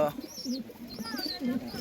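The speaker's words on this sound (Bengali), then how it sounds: "আর এই খাঁচাটার পায়রাটা দেখাচ্ছি" Caged pigeons cooing close by, soft repeated low coos in quick succession, with faint chirps in the background.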